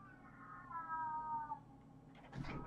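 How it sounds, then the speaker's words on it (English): A cat meows outdoors in a drawn-out, wavering cry, a little distant, followed by a short, sharper call near the end over a low background hum. "That sounds like my cat outside."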